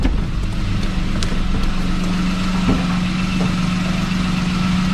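A manual car engine idles steadily and close by as the clutch is lifted bit by bit and the car creeps forward toward a garage, with a constant low hum throughout.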